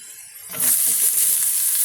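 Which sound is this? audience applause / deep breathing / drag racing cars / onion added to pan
onion added to pan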